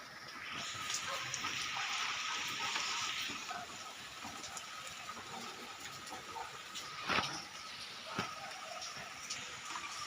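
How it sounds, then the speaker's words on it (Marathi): Steady rain hisses across the whole stretch, louder in the first few seconds, with a couple of sharper drips or knocks near the end. "बघा पाऊस सुरूच आहे"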